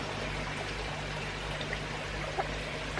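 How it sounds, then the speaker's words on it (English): Rainwater drips through a ripped tarpaulin, heard as a continuous trickling wash with a low steady hum beneath and a few faint isolated drops. "my tarpaulin has obviously ripped somewhere because I've got drips coming down"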